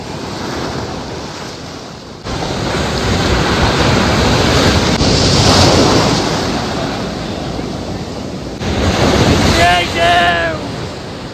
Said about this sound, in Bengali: প্রচন্ড পরিমাণে ঢেউ, প্রচন্ড পরিমাণে।